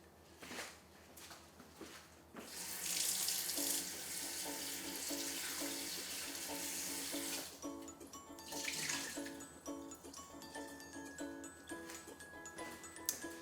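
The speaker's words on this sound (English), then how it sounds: "first rinse the chicken with cold water a little bit" A kitchen faucet runs over raw chicken in a sink as it is rinsed with cold water, starting with faint taps, then a strong steady stream that pauses and resumes, with some clinks and handling noises.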